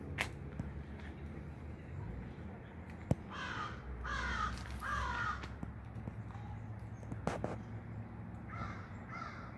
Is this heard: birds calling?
yes